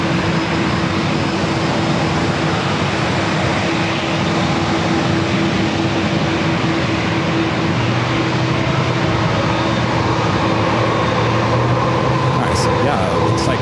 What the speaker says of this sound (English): Japan Airlines also crossing over 27.